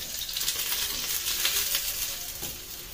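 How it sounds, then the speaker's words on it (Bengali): Small patishapta pancakes fry in a little ghee on a nonstick tawa, giving a steady close hiss with faint crackles and no voices. "একদম ছোট্ট ছোট্ট করে পাটিসাপটা, একটুখানি ঘি দিয়ে ভেজে নিচ্ছি"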